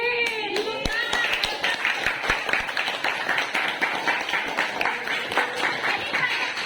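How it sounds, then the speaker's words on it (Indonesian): Students in an Indonesian classroom during a teaching assessment clap together in an uneven patter, with a voice briefly audible at the start. "Wih, tepuk tangan."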